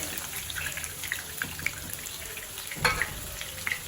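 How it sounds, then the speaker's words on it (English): Potatoes frying in a pan of oil at a street-food stall, a steady broadband sizzle with occasional sharp pops and a brief louder clatter near the end, no voices. "Take potatoes. Fry them until it changes its color."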